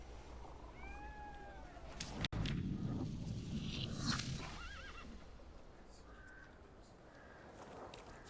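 A horse whinnies with a rising, wavering call, followed by snorts and hoof clatter, then quieter ambient sounds; game sound effects from The Thaumaturge.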